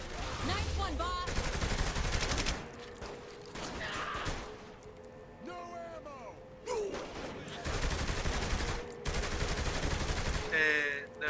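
Gunfire in a Saints Row video game gunfight, with loud sustained bursts of automatic shots, crashes and explosions, interrupted by brief lulls, while voices are heard under the action.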